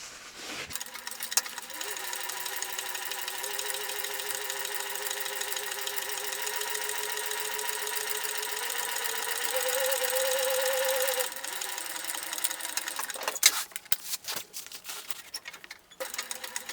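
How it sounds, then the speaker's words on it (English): Sewing machine top-stitching lines through foam on a backpack panel, a long steady mechanical hum with rapid needle chatter and slight pitch shifts, pausing briefly before a short final burst; no speech. "So we're gonna go ahead and stitch down these lines."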